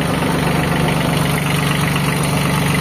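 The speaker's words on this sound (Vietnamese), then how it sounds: "Wow, động cơ quá vip, không xả gió luôn ha, về nguyên zin luôn ha." A used Japanese Kubota tractor engine idles steadily up close, a loud continuous diesel rumble with a rapid knocking pulse running through it and no voices.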